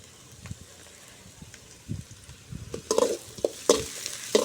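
Chopped onions with salt sauté in a pan during village-style cooking, with a soft sizzle under irregular scraping stirs that grow louder and sharper toward the end.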